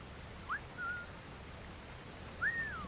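A character whistles in Assassin's Creed IV: Black Flag, two short rising whistles about two seconds apart, faint over a steady ambient game background with no talk.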